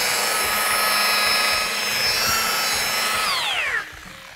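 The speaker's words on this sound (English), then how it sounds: "Let the buffer do the work." A paint buffer polishes a car body panel with a steady, loud, high electric whine that holds constant, then winds down in pitch near the end.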